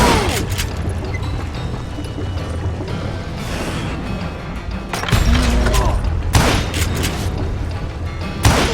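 Gunfire in the Western shooter Call of Juarez: Gunslinger, a dense stretch of booming shots with sharper bursts near the end, loud and close over a rumbling game soundscape.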